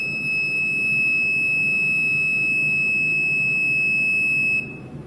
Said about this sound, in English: from Arduino Uno we are giving signal to the movement sensor and the buzzer